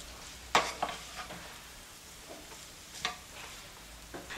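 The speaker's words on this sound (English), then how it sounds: "now I'm just going to stir those in" Chili powder and cumin are stirred into a sizzling pan, with a steady soft fry hiss broken by several scraping spoon strokes, close and moderately quiet.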